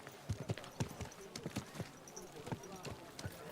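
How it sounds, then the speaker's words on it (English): Horse hooves clip-clop at a brisk, uneven pace, close by, with a faint murmur of voices in the background, in the video game Kingdom Come: Deliverance II. "Watch out with that horse!"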